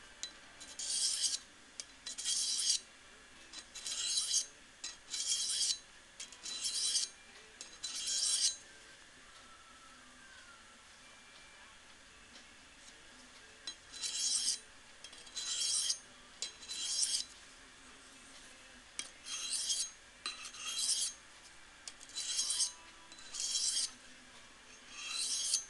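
A knife blade stroked across a sharpening stone to shape its edge bevels, in repeated bursts of rhythmic rasping strokes with brief pauses, close and clear.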